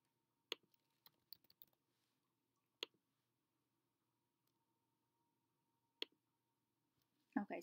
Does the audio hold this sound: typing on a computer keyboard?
yes